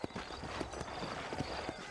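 Hooves clip-clop in a steady, quick rhythm, a horse trotting in the video game Red Dead Redemption, amid a busy background wash.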